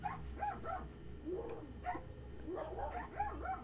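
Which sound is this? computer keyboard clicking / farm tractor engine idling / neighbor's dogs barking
neighbor's dogs barking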